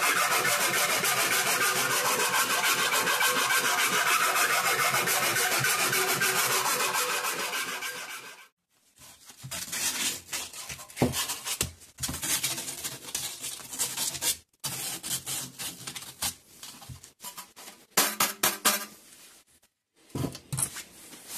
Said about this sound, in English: So the plan changed into enlarging the holes for installing the sockets from above the chassis